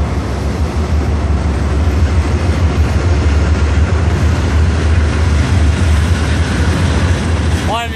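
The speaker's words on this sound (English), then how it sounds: "It's a train, baby." A train rumbles past close by in Grover, North Carolina, a loud steady low roar with rattling wheels, continuous throughout.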